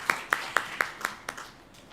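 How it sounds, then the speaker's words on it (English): Applause from an audience at an International Women's Day forum: six or seven sharp, evenly spaced claps over about a second and a half, fading toward the end, fairly faint and without talk. "let's just give them a clap even though they're not here"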